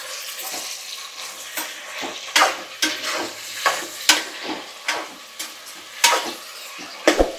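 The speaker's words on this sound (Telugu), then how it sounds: "ఫ్రై అవుతుంది." Spices, vegetables and green peas for veg biryani frying in a pan, with a steady sizzle broken by repeated sharp scrapes and clinks of a spoon stirring against the pan.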